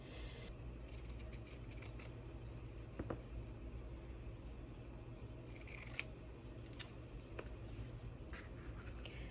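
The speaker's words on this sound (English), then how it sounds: "Now I need to cut my fabric down." Scissors cutting fabric for a journal cover, a faint series of soft snips and rustles over a low background hum, quiet and close with no speech.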